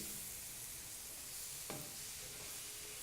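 A salt fish stew mixture is stirred in a pot with a faint, steady sizzle and one brief scrape partway through, heard alone without talking.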